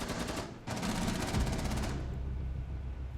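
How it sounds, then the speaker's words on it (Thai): Automatic gunfire in a video game, a loud close burst of rapid shots lasting over a second, then a second extended rattling burst under heavy background din, with no talk. "มีคนยิงมาทางยาว"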